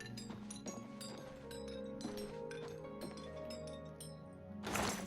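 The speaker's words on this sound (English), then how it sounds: "Something is clinking in a very musical fashion." In the Oblivion Remastered video game, glassy clinks ring out repeatedly inside a castle in an uneven, musical pattern, quiet overall, with a brighter burst near the end.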